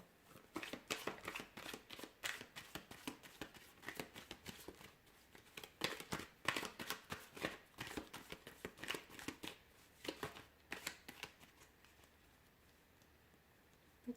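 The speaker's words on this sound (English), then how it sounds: "let's give the cards a shuffle and get into it" Tarot cards being shuffled up close, a rapid run of crisp riffling flutters and soft snaps that thins out and fades near the end.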